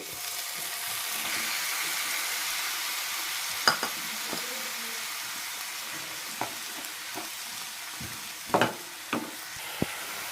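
Steady sizzling of finely chopped tomatoes and onions sautéing in a pan, with occasional scrapes and clinks of a spoon stirring, continuous and fairly close.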